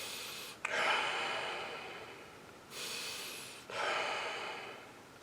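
A voice imitates a sleeping person's breathing: two long, breathy, snoring-like breaths, each opening with a sharp catch and then trailing off, separated by a brief pause, close and alone with no talk.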